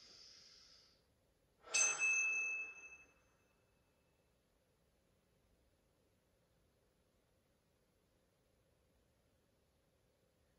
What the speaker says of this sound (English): I think I cut that gong a little short because the leather hit it